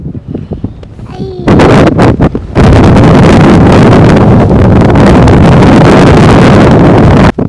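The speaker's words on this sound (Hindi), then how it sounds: "नाज़रीन सहरा है पूरा, हवा बहुत तेज़ है" Strong desert wind buffets the microphone in loud, sustained roaring gusts, starting with a lighter rustle and then surging into a near-constant heavy blast for most of the stretch.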